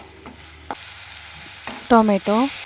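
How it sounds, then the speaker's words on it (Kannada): Chopped onion fries in a pan with a few quick stirring scrapes and taps over a faint sizzle, and a brief voice sound comes near the end. "ಇದನ್ನು ಕೂಡ ಅದರೊಟ್ಟಿಗೆ ಫ್ರೈ ಮಾಡ್ಕೋತಾ ಇದ್ದೀನಿ."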